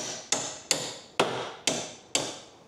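Five sharp, evenly spaced hammer blows ring out as a part is driven into an Agri-Fab tow-behind broadcast spreader during assembly, each strike close and loud with a short metallic decay.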